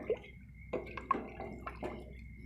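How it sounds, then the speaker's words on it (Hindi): Water poured into a pot of rice being cooked, a few faint, close splashes and drips in an otherwise quiet space. "मैंने साफ चावल पकाने हैं और इसलिए मैं इसमें पानी ज़रा ज़्यादा डालने लगी।"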